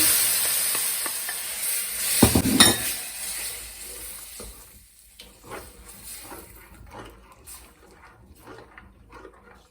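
Meat broth poured into a pan of lightly sautéed celery, a sharp burst of sizzling and liquid splashing at the start, then softer stirring and clinking of a utensil against the pan.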